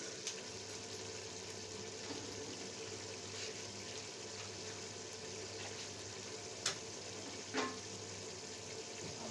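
Karela gosht (bitter gourd and meat) fries in a pot on a wood stove, giving a faint, steady sizzle with a couple of soft clinks.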